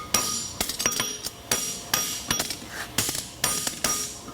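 Hammer blows ringing on the wide 4.5-inch face of a 200 lb anvil during forging, about a dozen sharp metallic strikes in an uneven rhythm, close and loud, with no talking.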